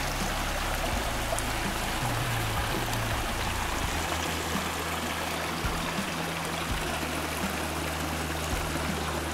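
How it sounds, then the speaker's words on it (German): A brook running through a wooded valley on the trail to the Steinerne Renne gorge, a steady close rushing and trickling of water that continues unbroken, with a low hum underneath and no talking. "Mit einem wirklich schönen Bach, der hier durchgeht."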